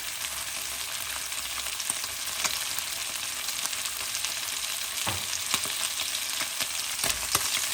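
Lamb shanks browning in a pot with ginger, garlic and chili paste, giving a steady loud sizzle with scattered crackles and a few sharp stirring scrapes, no voices.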